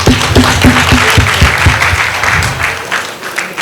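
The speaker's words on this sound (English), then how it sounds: "So let's give a clap to." An audience applauds after a panel discussion. The clapping is loud and close, with a few distinct hand claps at the start merging into a steady wash of applause that fades slightly toward the end.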